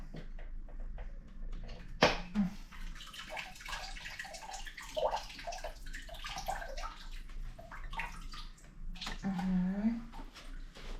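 Water runs and splashes in a bathtub as items are rinsed, a steady wash broken by a few sharp knocks and drips, with voices talking over it throughout.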